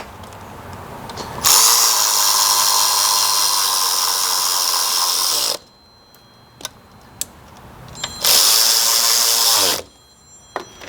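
A power tool bolts an engine part onto a Jeep Wrangler during a misfire repair: two loud sustained whirring bursts of about four and one and a half seconds, close by, with small ticks and clicks in the quiet gap between them.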